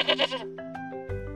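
A goat bleats twice in quick, wavering cries, close and fairly loud, followed by a few softer bleats and a low steady hum underneath.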